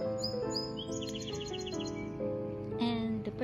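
Garden birds in early June chirp and trill repeatedly, several bright calls overlapping at moderate distance in an otherwise quiet outdoor setting.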